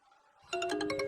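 Mobile phone ringtone in a Hindi-dubbed film, a bright pulsing electronic melody that starts abruptly partway through and carries on loudly after faint background sound.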